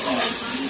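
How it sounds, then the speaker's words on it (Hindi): Masala spices roasting in a pan for poi leaf sabzi, giving a steady, close sizzle with faint stirring, brief and alone without talk. "तो मसालों को मैं अच्छी तरह से भून लूंगी"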